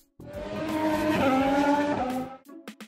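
A cartoon race car's tires skid in one loud, sustained screech of roughly two seconds that swells and then cuts off, followed by a few faint clicks.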